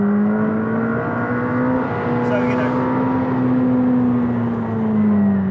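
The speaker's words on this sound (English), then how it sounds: "That titanium exhaust, it certainly adds volume, but it's only making a slightly gravelly, slightly tuneless engine louder" The McLaren 765LT engine drones steadily through its titanium exhaust with a gravelly, even tone at a constant pace. Someone talks briefly over it.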